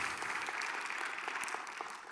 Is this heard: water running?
no